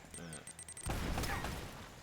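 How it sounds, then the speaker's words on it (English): A big grenade explosion in the action video game Uncharted: Drake's Fortune, with a sudden loud broadband boom that rolls on and decays over a second or so after some quieter game sounds. "Ooh, that's a nice big explosion."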